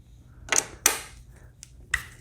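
Several sharp metallic clicks and snaps from a 6mm hex key breaking loose handlebar bolts on a Kawasaki Concours 14 (1400GTR), close by and isolated, with quiet pauses between them.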